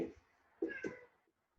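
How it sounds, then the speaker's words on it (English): A pet cat lets out a couple of short, fairly faint meows indoors, followed by quiet. "My cat is bothering me."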